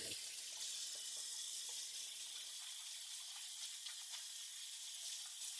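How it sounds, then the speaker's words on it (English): Tap water running into a sink while hands are given a quick rinse, a steady hissing stream, faint and continuous throughout, with no talking. "let's give my hands just a quick little rinse here and wash"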